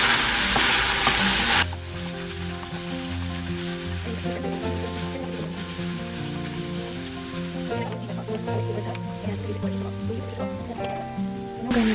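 Shrimp and beef browning in a pan, a steady bright sizzle under background music with a sustained melodic line, moderately loud and continuous throughout.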